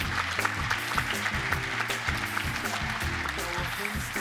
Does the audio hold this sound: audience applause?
yes